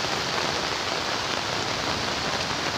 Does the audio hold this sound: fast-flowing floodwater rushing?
yes